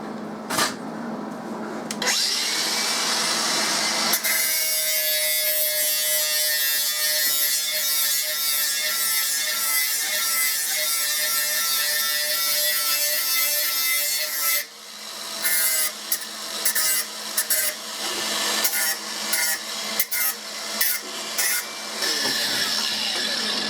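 A power tool trims a welded metal part, a loud, continuous high-pitched grinding whine that runs for several seconds, then stops and gives way to short, intermittent bursts.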